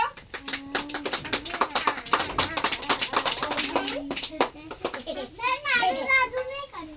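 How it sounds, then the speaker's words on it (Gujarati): A group of children clapping in quick, scattered bursts of claps that run through most of the moment, with children's voices chattering over them. "ચલો તાળી પાડો"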